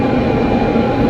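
Shinkansen bullet train pulling into a station platform in Japan, a steady loud low rumble and broadband roar that holds evenly through the short moment without talk.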